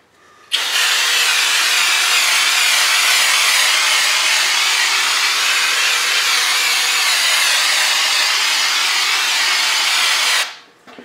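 A hopper gun sprays knockdown drywall texture, set for a heavier coat, onto a lower wall patch in one loud, continuous hissing blast lasting about ten seconds, starting and stopping abruptly.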